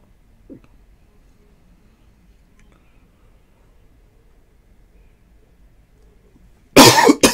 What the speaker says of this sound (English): as soon as it's done, the cough is back.